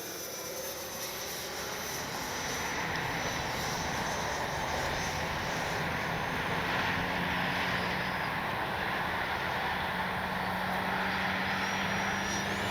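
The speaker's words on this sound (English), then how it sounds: "Man, what a stable jet." An FMS 90mm Super Scorpion V2 electric ducted-fan RC jet flies past on its maiden flight, a continuous airy whoosh with a thin high whine that swells slightly as it passes, heard from a distance.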